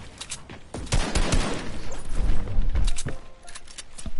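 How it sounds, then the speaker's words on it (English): Heavy, loud gunfire crackles and booms in a video game, with repeated sharp blasts and rumbling impacts over a noisy battle backdrop while a sniper fires on the players. "because we're getting sniped at"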